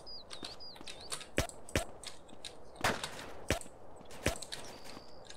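Scattered gunshots in the MTA DayZ survival game, several sharp cracks spaced irregularly over the span, some near and loud, others fainter and more distant.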